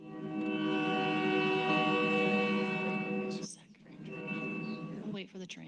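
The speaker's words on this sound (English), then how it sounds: "We'll wait for the train." A train horn blares steadily with rich layered tones for several seconds, then fades as rail rumble and scattered voices take over, the train passing close by.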